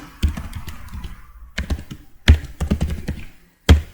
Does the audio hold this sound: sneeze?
no